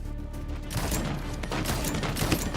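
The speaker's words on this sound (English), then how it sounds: "Suppressing fire with a hand cannon" Rapid hand cannon gunfire from the Paladins video game, a dense sustained burst of shots lasting the whole moment, loud and continuous with game effects mixed in.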